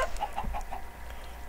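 Chickens in Minecraft Hypixel Party Games make a short run of soft, rhythmic clucks, several quick calls close together, with no talking.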